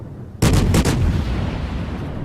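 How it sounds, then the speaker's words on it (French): The Japanese cruiser Ibuki fires a quick salvo of heavy naval guns in World of Warships. Several booming shots come almost together, close and loud, then a long rumbling decay, with no voices. "J'adore le bruit des canons de l'Ibuki par rapport aux autres croiseurs de même rang qui sont plus traditionnels."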